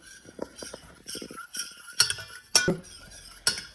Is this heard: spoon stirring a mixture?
yes